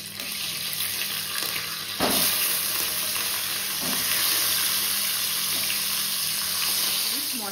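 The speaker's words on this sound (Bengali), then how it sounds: "এবার ডিমগুলোকে ভেজে নেব।" Eggs frying in oil with turmeric and salt, giving a steady loud hiss and crackle throughout with a few soft knocks.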